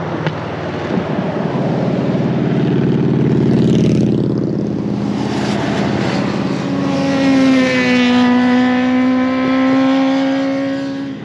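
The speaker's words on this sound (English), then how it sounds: "Here comes a Harley." A Harley motorcycle passes on a mountain canyon highway, its engine roar swelling loud and close, then its pitch sliding downward as it moves away.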